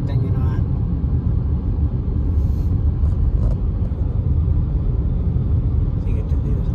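Dense road traffic at rush hour on busy Calgary streets, a steady low rumble of many cars passing with constant vehicle noise throughout, with faint talk in the background.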